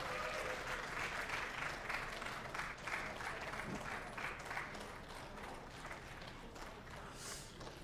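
Applause from the audience at a Carrom World Cup men's final, sustained clapping that gradually thins and softens, with faint crowd murmur.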